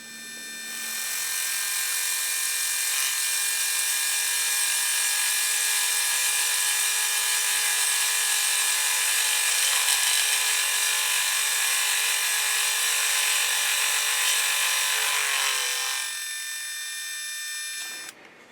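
Milling cutter facing a fixture plate vise block on a metalworking mill, a loud steady whine with bright tonal harmonics running unbroken for about fifteen seconds before spinning down.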